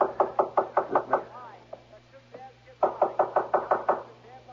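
Two bursts of about seven quick, loud knocks on a house door, separated by a quiet pause with faint creaks, a radio mystery drama sound effect with no talk over it.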